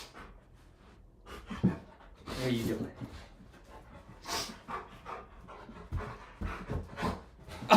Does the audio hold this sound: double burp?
no